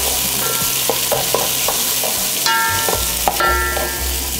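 Onions frying in a pan on a home cooking show, a steady close sizzle with occasional scrapes and clinks of stirring running through the whole stretch.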